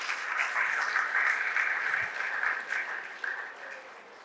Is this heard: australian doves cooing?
no